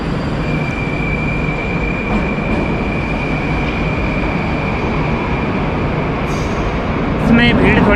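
A Tashkent metro train rumbles steadily into the station with a faint high whine, louder near the end as wheels squeal, under a busy station hum.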